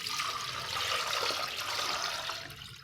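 Water is poured into churned curd in a clay pot, a steady close splashing trickle that runs continuously for a few seconds with no talking.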